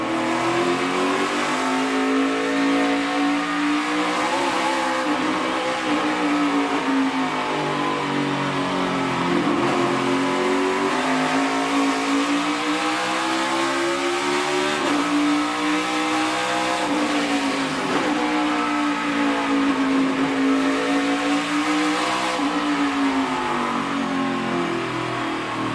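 Onboard a Team Penske Ford race car, the engine roars loud and constant, its pitch rising and dipping with shifts and throttle changes as the car laps the track, with no talk over it.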